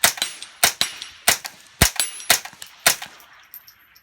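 Repeated sharp reports from a firearm fired through a homemade aluminum tube suppressor with compartment separators, about seven evenly spaced cracks over a few seconds, each with a short metallic ring, close and loud with no talk.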